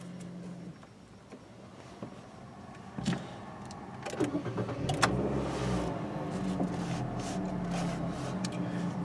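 A 2016 Nissan March SL with CVT is started from inside the cabin: a brief starter crank, then the engine catches and settles into a steady idle hum, heard close with a few clicks and thumps.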